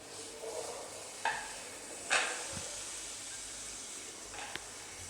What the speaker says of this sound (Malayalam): നന്നായി ഇതൊക്കെ ഒന്ന് പൊടിഞ്ഞ് കിട്ടുന്ന രീതിക്ക് നന്നായി നമ്മൾ ഇളക്കി കൊടുക്കണം